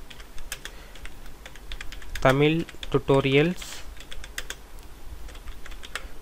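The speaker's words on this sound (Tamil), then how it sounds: "இப்போ எக்ஸாம்பிளுக்கு நான் வந்து ஒரே ஒரு லைன் மட்டும் நான் டைப் பண்றேன்" Fingers tap out a line on a computer keyboard with quick, faint, irregular clicks, and a voice speaks briefly partway through.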